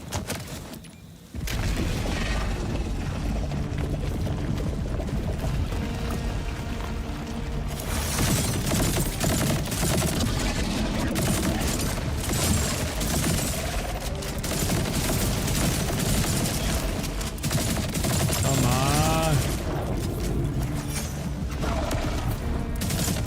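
Continuous gunfire in the video game Borderlands 4, dense rapid bursts and mechanical clatter sustained loud for most of the stretch after a brief quieter opening.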